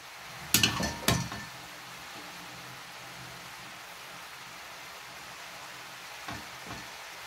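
Handfuls of fresh coriander dropped onto chard in a cooking pot, two quick rustling thumps up front, then a quiet sizzling hiss and a couple of soft rustles near the end.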